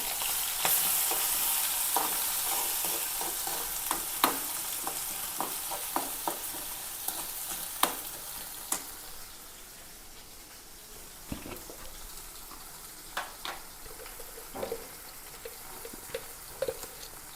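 Crushed onion, green chilli, ginger and garlic fry in hot oil, a continuous close sizzle that starts loud and gradually settles, with frequent clicks and scrapes of stirring throughout.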